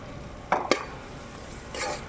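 Chicken stirred into masala in hot oil gives a couple of quick scraping clinks from a spoon against the pan, then a softer rustling stir a moment later, over a faint background.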